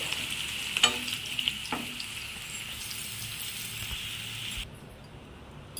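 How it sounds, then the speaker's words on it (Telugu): Mushrooms frying in a pan until golden give a steady close sizzle with a few clinks of stirring, and the frying cuts off sharply near the end. "మష్రూమ్స్ అనేవి గోల్డ్ కలర్లోకి మారేంత వరకు వేపుకోవాలి"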